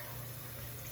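Tap water runs into a basin, filling it for hand-washing cashmere sweaters, a steady, faint hiss with no breaks and no voices.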